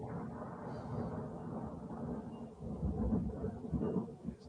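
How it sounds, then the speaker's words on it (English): Rolling summer thunder rumbles low and steady throughout, swelling louder toward the end with deep, broad crackling surges and no voices over it. "As we pause for the thunder."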